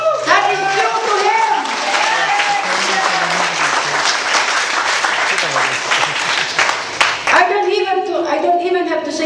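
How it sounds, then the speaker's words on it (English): A church congregation breaks into loud, sustained clapping lasting several seconds. A preacher's voice is heard before the applause and as it dies away. "Please, let's give Him a clap."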